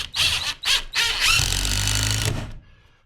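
A power drill whirs in two short bursts, then runs longer as it drives a screw home, close by, with a high squealing whine before stopping.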